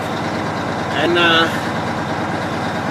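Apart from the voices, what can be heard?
Mack truck idling while building up air pressure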